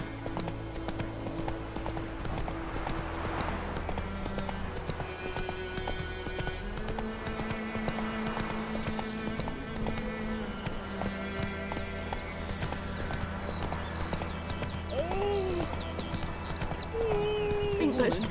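Horse galloping in the video game The Witcher 3: a steady stream of rhythmic clip-clop hoofbeats continues throughout, with an occasional whinny and game music and voices mixed in.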